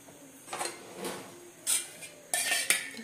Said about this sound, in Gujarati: કુકરની અંદર બનાવવાનું છે એટલે આપણે એની અંદર તેલ નાખી દઈએ.